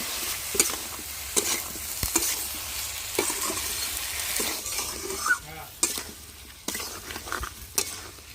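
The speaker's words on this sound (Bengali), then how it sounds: "ভালো করে গুড় দিয়ে আমের সঙ্গে মিশিয়ে নেব" Raw mango pieces stirred with jaggery in a pan for a sweet-sour pickle, with repeated scraping spoon strokes and knocks over a steady sizzle and no voices.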